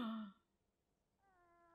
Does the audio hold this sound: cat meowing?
yes